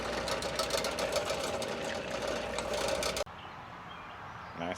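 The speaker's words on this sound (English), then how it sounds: "these rock tumblers are out in the garage, it's really easy to forget about them, despite how loud they are." Rock tumblers in a garage give a steady, loud mechanical rumble with a rhythmic churning hum, running continuously before cutting abruptly to a quieter background hum.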